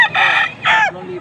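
Roosters crow at a chicken stall in a Pampanga flea market, two loud close crows in quick succession followed by a softer trailing call.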